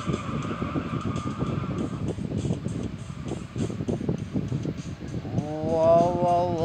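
A car in an online open-world driving game revs steadily, then its tires squeal in a rising skid near the end, loud and continuous with engine noise throughout and no speech.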